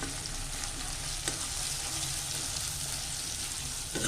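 Garlic and ginger paste fries in a pan with a continuous loud sizzle and crackle, close and even throughout with one sharp tick midway.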